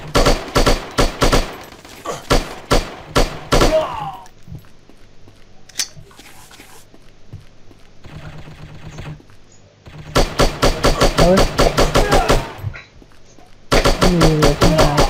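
Gunfire in the shooting video game Striker: crisp, loud rapid bursts of automatic fire come in clusters, broken by quieter pauses filled with lighter clicks and effects.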